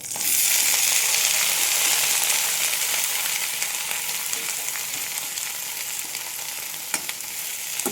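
Steady sizzling of green beans sautéing in a hot pan, a continuous crackling hiss with a few sharp pops, gradually easing.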